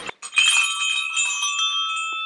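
Decorative hanging door bells from Crate and Barrel ring loudly and brightly in a sustained shimmering chime after a quick jingle, close by with no talking.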